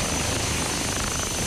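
A helicopter waits at the scene to airlift a sheriff's deputy hurt in a police pursuit, its engine and rotor making a loud, steady, close roar.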